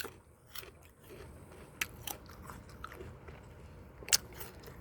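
Someone bites into and chews soft, overripe fruit picked by the roadside, with close, wet munching and a few crisp bite snaps scattered over quiet outdoor background.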